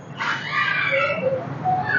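A caged Amazon parrot at Thiruvananthapuram Zoo gives loud, harsh, rising calls close by, a squawk followed by shorter chattering notes.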